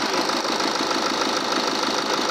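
A water-damaged BMW 520d diesel engine running after being started, with a steady, loud mid-pitched rumble and knocking character filling the whole stretch without pause.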